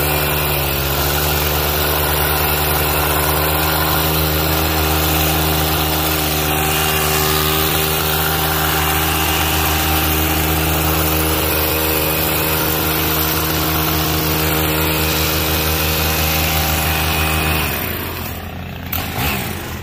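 Stihl rotary scissors trimmer and edger combo running steadily near the microphone, a continuous loud motor drone with even harmonic tone that holds for about seventeen seconds before cutting off abruptly.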